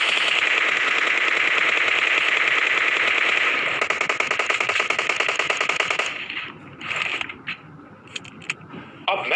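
Rapid automatic gunfire from a hill in a multiplayer shooter game, loud and continuous for several seconds before breaking into scattered shots and crackles.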